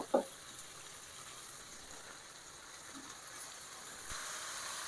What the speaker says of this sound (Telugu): ఇప్పుడు మనము ఆల్రెడీ కట్ చేసి పెట్టుకున్న మష్రూమ్ని వేయాలి